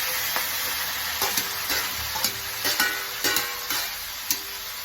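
Chopped onions and cumin sizzling in a pan for a gobi paratha dinner, a constant crackling fry close up, broken by repeated scraping and clinking strokes as the mixture is stirred.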